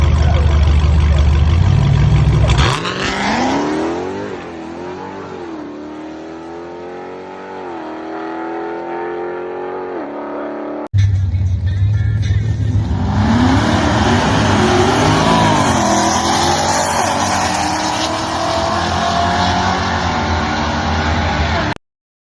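Dodge Challenger Scat Pack at drag racing runs, a loud engine roar building through rising gear pulls with shift breaks, then a second full-throttle launch climbing again, continuous and close with no talking.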